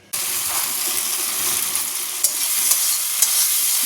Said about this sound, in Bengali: মাছের ঝালের জন্য মশলাটা কষিয়ে নিচ্ছি, আগে শুধু টমেটো, পেঁয়াজ আর কাঁচা লঙ্কা দিয়ে করছি মাছের ঝালটা।